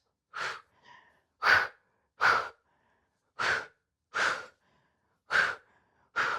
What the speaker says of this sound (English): you're audibly exhaling